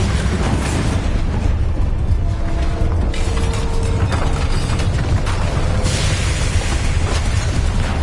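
A Bombarda blasting spell goes off in a Hogwarts video game, a loud, dense explosive roar that fills the whole clip with rumbling, crackling debris and no break or fade.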